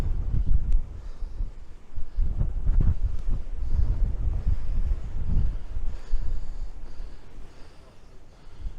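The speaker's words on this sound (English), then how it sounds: "I don't know how well the sound's coming out because it's absolutely blowing an absolute hoolie here" Strong gusts on an exposed hilltop nature reserve buffet the microphone in heavy, continuous rumbling waves of wind noise, rising and easing but never stopping.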